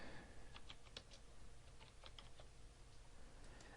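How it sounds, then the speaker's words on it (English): Keys on a computer keyboard are tapped in a quick, irregular burst to enter a search topic, faint and close over a steady background hiss. "you can type in a topic"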